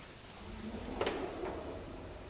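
A door opening into a room holding a Cray computer cabinet, a brief sliding scrape and a soft clunk rising above a steady loud machine-room hum.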